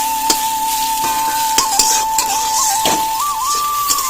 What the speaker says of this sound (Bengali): এইদিকে দেখো উচ্ছে ভাজাটা দিয়েছি কড়াইয়ে, উচ্ছে কাঁচা উচ্ছে দিয়েছি ভাজার জন্য।